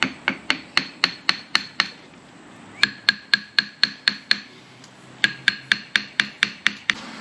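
A hammer strikes a metal differential crown wheel in quick, sharp, ringing bursts of about six or seven blows each, separated by short pauses, loud and close with no talk.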